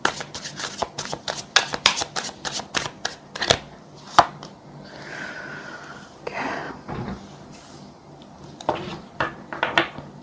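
Tarot cards are shuffled and drawn in a rapid string of crisp riffling slaps and flicks, then a pause and a few softer card snaps, close and clear with no speech.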